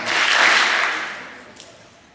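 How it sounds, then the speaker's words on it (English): An audience at a 2018 middle school awards ceremony applauds for students, a brief burst of clapping that swells quickly, then fades over about two seconds in a large room. "Go ahead and give them 2 claps as I round their names out"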